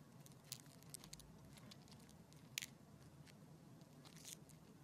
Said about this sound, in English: You can also listen for clicking or rustling noises in your walls.